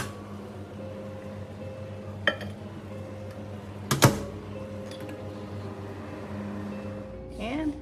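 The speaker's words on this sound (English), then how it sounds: "Now I'm gonna pop this in the microwave for 3 minutes" A steady low electrical hum of a running microwave oven heating a mug cake, broken by a few clinks of dishes and a brief clatter.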